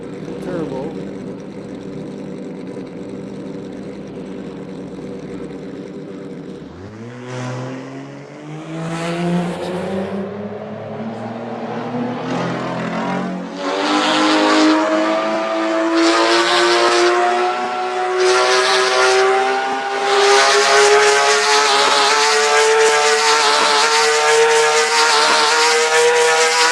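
A Porsche turbo engine idles low, then revs up and accelerates hard, its pitch climbing steadily through the gears and growing louder and closer, with a rising whine on top.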